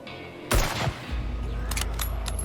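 Gunfire in the HumanitZ zombie survival video game during an attack on a human AI camp: two loud cracks close together, followed by a lingering rumble and scattered fainter reports.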